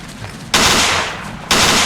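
Two sharp bursts of heavy gunfire in the Ghost Recon video game, loud and close, each erupting abruptly and rattling for about a second with a brief lull between them.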